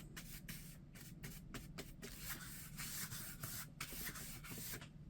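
Brush strokes of gesso across a big journal cover, a steady dry rubbing and swishing with short repeated strokes, close and fairly quiet, with no talking.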